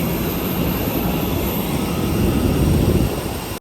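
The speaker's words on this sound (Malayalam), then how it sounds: "അങ്ങനെ നമ്മൾ ചൈന ഈസ്റ്റേണിൻ്റെ ഫ്ലൈറ്റിൻ്റെ അടുത്ത് എത്തിയിരിക്കുകയാണ്" A China Eastern passenger jet at Shanghai Pudong airport gives off a steady, broadband roar of engine and airflow that stays loud and unbroken for several seconds. No one speaks.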